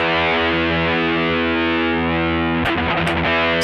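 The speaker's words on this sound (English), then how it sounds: "the multistage sounds more complex and like a real hard working amplifier" Heavily distorted electric guitar through a multistage distortion programmed on a Sigma DSP ADAU1452, a loud sustained saturated chord ringing dense and thick, then a few choppy restruck notes near the end.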